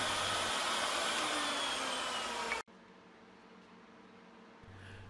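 A router cuts profiled edges along wooden French cleats, a loud steady whine that cuts off abruptly midway, leaving a low hum as the motor spins down, then a faint restart near the end.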